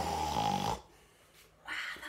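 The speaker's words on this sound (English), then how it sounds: "Wow, that's a very loud snore," Loud snoring heard up close, one long rasping snore lasting under a second, then a short pause and the start of another breath.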